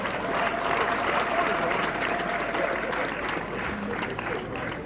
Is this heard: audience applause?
yes